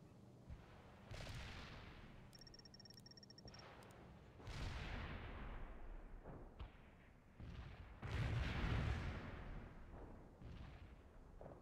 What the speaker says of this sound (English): Medium artillery is available for you. The barrage is on the way.